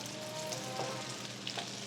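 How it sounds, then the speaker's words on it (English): Dried shrimp (hebi) frying in a pan for Hokkien mee, a steady close sizzle with a few brief stirring scrapes, no talking. "so the hebi, we fry the hebi inside"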